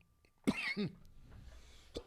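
A single short, harsh cough close by, followed by a faint second catch of breath, over a quiet background.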